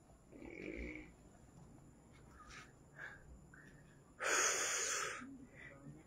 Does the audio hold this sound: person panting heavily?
yes